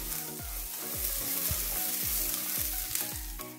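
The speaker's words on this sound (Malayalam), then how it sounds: "ഉള്ളിയൊക്കെ വഴന്ന് വരുന്ന വരെ നമുക്ക് വഴറ്റി കൊടുക്കണം" Chopped onions and garlic sauté in hot oil in a pan, a steady loud sizzle broken by regular scrapes of a spoon stirring roughly every half second, with no talking.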